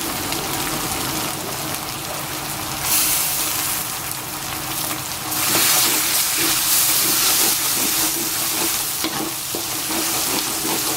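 Laksa leaves (daun kesum) frying in hot chili sambal, a loud crackling sizzle with bursts of hiss as they hit the oil and occasional stirring scrapes, no talking.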